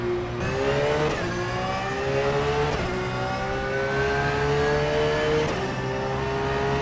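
A GT3 race car engine at the Mugello circuit in the rFactor 2 racing game revs hard and loud, climbing through the gears with a sharp dip at each of several upshifts.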